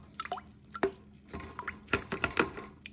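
Tea bags are gently mushed and squeezed in a small amount of liquid, giving soft wet squelches, drips and splashy taps in irregular bursts, close and alone.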